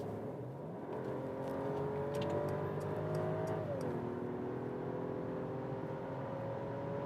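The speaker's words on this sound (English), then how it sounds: "The 6-cylinder we have here in the S500, but still quick acceleration." A Mercedes S500 six-cylinder accelerates on a German motorway in sports mode from about 100 km/h, its subdued engine note climbing steadily through a gear change under a constant cabin hum, with no talking.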